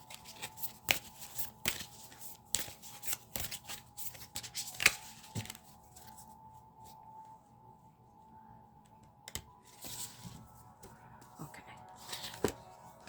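A deck of heavy tarot-style cards that tend to stick together is shuffled by hand nearby. The riffling and tapping comes in irregular bursts, fairly faint, with pauses between handfuls.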